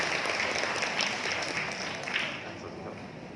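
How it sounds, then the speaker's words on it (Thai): Audience at a Ministry of Commerce event applauds steadily for guests being introduced, a dense wash of clapping that holds loud and then eases slightly toward the end. "ขอเสียงปรบมือให้กับท่านแรกนะครับ"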